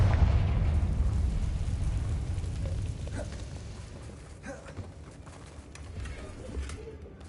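The Confringo explosion spell in the video game Hogwarts Legacy bursts with a deep, loud boom at the start, then fades into a lingering low rumble under faint ambient game sounds.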